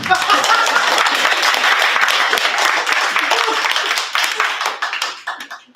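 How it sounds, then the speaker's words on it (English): Audience applause at an open mic night, dense and loud sustained clapping from a crowd that tapers off near the end. "Clap."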